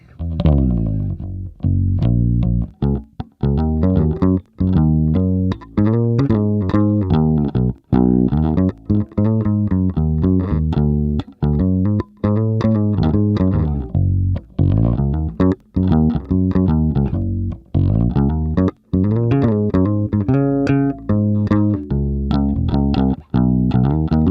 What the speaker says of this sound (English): this is the kind of tone that you're able to get with just a simple bass